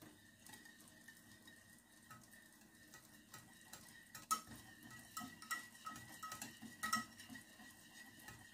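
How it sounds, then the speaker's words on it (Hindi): Ingredients for white chicken karahi being mixed in a bowl: faint clinks and light scraping taps of a spoon against the dish, irregular and close, quiet at first and busier later, no talking. "अब हम इन सबको अच्छे से मिक्स कर लेंगे।"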